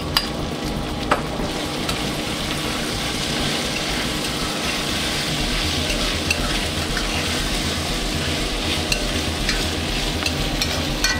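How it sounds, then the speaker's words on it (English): Seeded, chopped jalapenos tossed into a pan of frying onions and spices, a steady loud sizzle with occasional stirring scrapes and clicks running throughout. "I'm now going to add our jalapeno."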